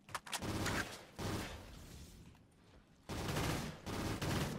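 Sustained bursts of gunfire in a Call of Duty custom zombies map, loud rattling volleys separated by a short lull, with almost no talking over them.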